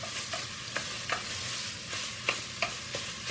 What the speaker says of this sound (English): I'm gonna brown this off